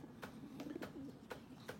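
Soft, low coos from racing pigeons repeat in a gentle rolling rhythm, faint and close, with a few light clicks or taps between them.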